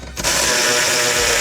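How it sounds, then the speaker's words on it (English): An electric ratchet removing seat bolts on a Mercedes Sprinter, starting abruptly and running as a steady, loud, close mechanical whirr that continues without break. "we can swap over to our electric ratchet and remove the first 2 of the bolts"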